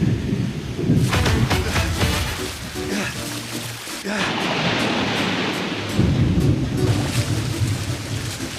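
Deep rumbling thunder rolls beneath a wash of rushing water and rain, loud and turbulent, swelling and easing across the stretch.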